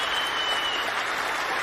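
A wrestling crowd cheering and applauding, a dense, continuous wash of clapping and cheers at even loudness, with no voices standing out.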